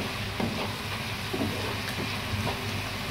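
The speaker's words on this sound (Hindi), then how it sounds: "अभी मैं इंतज़ार कर रही हूँ कि ये प्याज जो है अच्छी तरीके से ब्राउन हो जाए" Onions browning in a pan for a Delhi-style chicken korma, giving a dense, steady sizzle and crackle throughout with a few faint stirring taps underneath.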